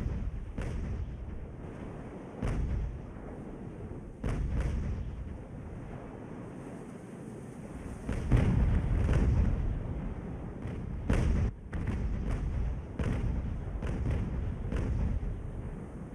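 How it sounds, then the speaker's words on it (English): Naval cannon broadsides from sailing warships in Ultimate Admiral: Age of Sail, a British campaign battle, with repeated booming blasts and rumbling volleys, some clustered, over a steady low background roar. "Try and get as many of those shots on target as we can"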